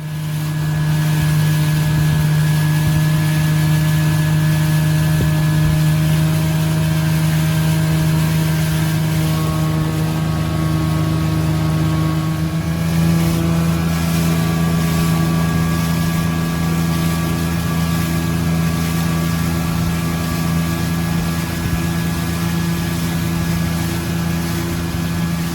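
Small motorboat carrying two people and a dog, running at a steady top speed of around 13 mph on the water. The engine's drone is loud and close, holding a constant pitch with a slight shift midway and no voices over it.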